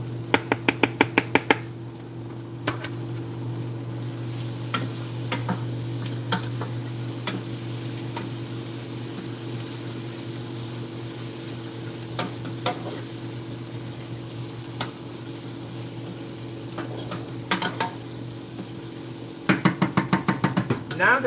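Onions and smoked sausage sauté in a pan with a steady sizzle under a low hum, punctuated by scattered utensil clicks and taps, with brief bursts of rapid clattering at the start and end.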